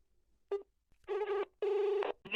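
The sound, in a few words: phone call being dialled and ringing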